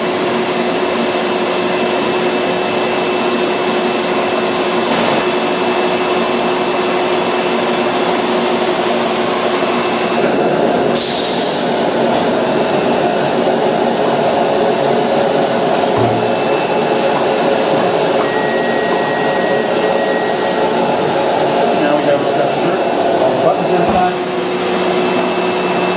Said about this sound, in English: you can press the other one to the next shirt while that one's pressing